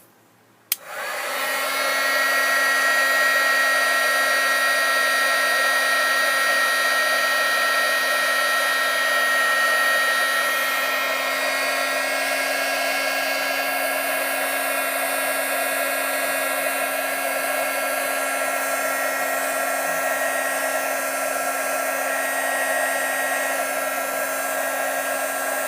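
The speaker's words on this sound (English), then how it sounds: "So I'm just going to turn the heat tool on." A heat embossing tool blowing hot air onto sheer fabric starts with a click and then holds a loud, steady, high-pitched whine with a breathy rush of air, shifting slightly in tone partway through and running alone throughout.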